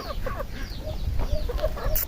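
Hens clucking in short, repeated calls over a low rumble of background noise, fairly close, with no talking.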